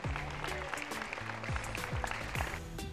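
A crowd applauds at a town festival marking a 130th anniversary, clapping steadily and fairly faint, with a few low thuds and a scattered voice mixed in.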